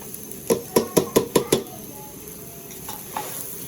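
A metal spoon knocking against a pot while pulao with carrots cooks, six quick clanks in a steady row, then a few softer scrapes over a low background hiss.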